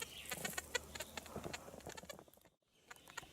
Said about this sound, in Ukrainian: Гарна погода сьогодні, пташки співають неймовірно.